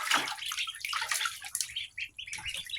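Newly hatched Indian runner ducklings splash and paddle in shallow bath water, a steady close trickling and sloshing with soft peeps mixed in.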